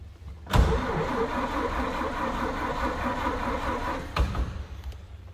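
A 1931 Ford Model A 5-window coupe cranks on the starter and fires up, then settles into a steady, rumbling idle for several seconds before a second burst of cranking or revving near the end, close and loud.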